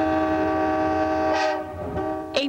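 An Amtrak train sounds its horn in a loud, sustained multi-tone blast, with rail rumble beneath and a brief sharp squeal at the end.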